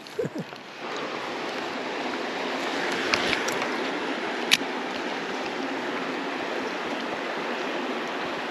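River water flows steadily in a broad, continuous rush during an afternoon of wade fishing for bass and redbreasts, with a couple of small splashes or clicks near the start and middle.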